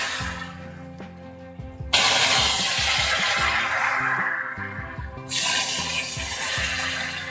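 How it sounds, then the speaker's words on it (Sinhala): Water poured into caramelized sugar syrup in two long, loud hissing bursts, with a short quieter gap between them, over a low bubbling rumble. "කැරමල් කරගත්ත පැණි එකට වතුර ටිකක් එකතු කරගන්න."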